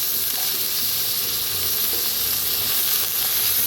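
Steady loud sizzling of potatoes and brinjal roasting in a hot pan, a continuous close hiss of frying with no voices.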